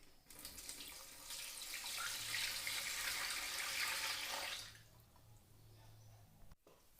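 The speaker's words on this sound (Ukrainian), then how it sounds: "І наливаємо води більше, як за половину банки." Water poured from a tap into a pot holding jars of cherries set on a wooden rack, a steady rushing splash that builds, then cuts off, leaving a quieter trickle.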